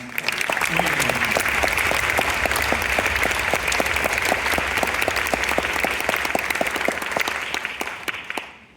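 Sustained applause from a concert audience honoring the conductor of a youth orchestra, steady dense clapping that holds for several seconds and then tapers off.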